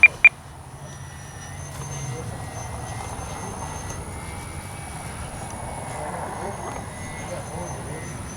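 An FMS PC-21 Pilatus RC jet trainer, flown low with landing flaps down, makes a steady mid-distance engine drone that holds evenly throughout after two brief sharp clicks at the start.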